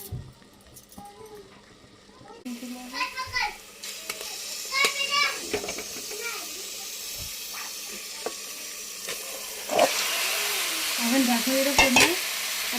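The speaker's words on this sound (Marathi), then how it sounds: "आता आपण त्याच्यामध्ये मटण टाकून घेऊया" Pieces of village goat mutton are dropped into a hot pan of cooked masala and stirred, setting off a loud, continuous sizzle and hiss broken by scraping stir strokes, with a voice and other talk nearby.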